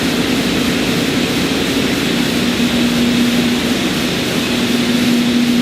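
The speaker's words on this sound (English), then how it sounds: "This is a centerless grinder." A centerless grinder used for grinding lawn-equipment axles runs with a steady, loud mechanical drone and a constant low hum, unbroken throughout and with no voices.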